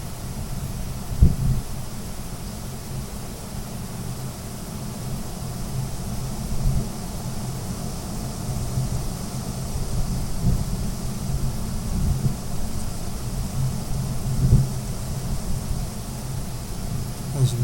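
Wind blows across an overcast West Virginia hilltop during rifle season, a constant rushing roar with occasional low buffeting thumps against the microphone.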